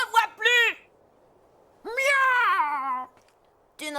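A cat meows in an animated OVA, with two short mews followed by a longer, wavering meow, close and clear between quiet gaps.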